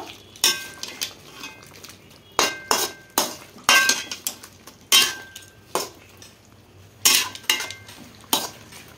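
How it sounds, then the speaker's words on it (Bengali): Coconut and green chili paste stirred into chicken in a pot for a coconut chicken dish: a steady run of sharp metal spoon scrapes and clinks against the pan, close and fairly loud, in irregular bursts with no talk. "খুব ভালো করে মিশিয়ে নেব।"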